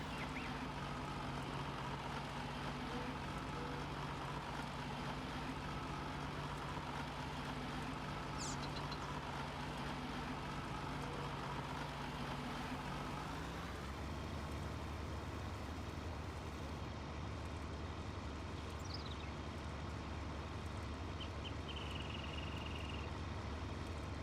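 Steady low engine drone of a tractor in Farming Simulator 19, a constant hum that drops to a rougher, lower rumble partway through, with faint game sound effects and no talk.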